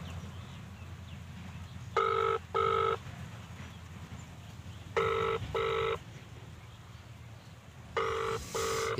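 An outgoing phone call's ringback tone sounds in paired bursts, repeating three times at even intervals over a low, steady background hiss.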